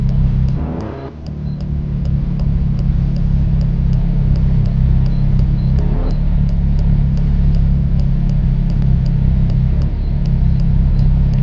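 A car engine idles and rumbles steadily while being parked in a Roblox driving game, a continuous loud low drone that runs alone throughout with faint periodic clicks.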